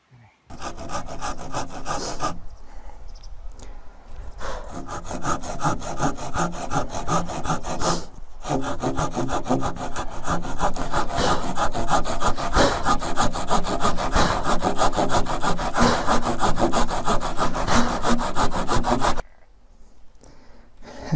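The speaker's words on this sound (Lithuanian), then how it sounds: "Pjūklą paimsiu su smulkesniais dantukais, tam, kad tiksliau atžymėti, padaryti būsimo pjūvo takelį." A fine-toothed hand saw cuts a starting kerf into wooden timber for a lengthwise beam joint, rasping in steady close back-and-forth strokes with a few brief pauses before stopping near the end.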